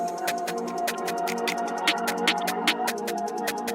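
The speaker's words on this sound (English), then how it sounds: "We're also going to add in a very, very fast hat underneath it." Very fast trap hi-hat rolling under a pitched-up snare pattern, dense ticking hits over a sustained melodic synth bed, steady and upfront with no voices.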